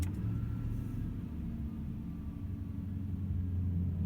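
A 2003 Ford F150 pickup engine idles steadily with a deep, even rumble and a low hum, close and continuous, with no voices.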